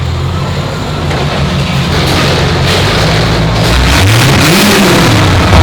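Corvette driven hard nearby, a loud engine roar that holds steady, then climbs in pitch as it revs up near the end.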